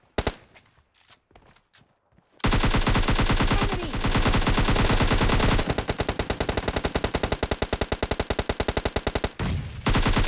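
In a shooter game, sustained automatic gunfire rattles loudly in long rapid bursts, one weapon emptying several magazines, after a few scattered shots and footsteps at the start.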